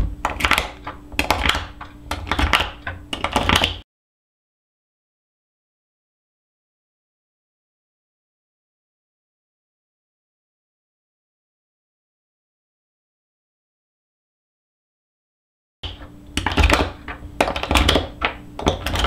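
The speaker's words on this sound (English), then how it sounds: "This is what Will Tell calls speed loading" Cartridges speed loaded into a 1911 pistol magazine, bursts of rapid metallic clicks and taps up close, then a long stretch of silence before another quick run of clicking.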